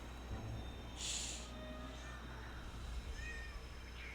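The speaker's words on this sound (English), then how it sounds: "The cat keeps meowing." A house cat lets out a single short meow about a second in, fairly close but quiet, against a low steady room hum with faint, scattered background sounds.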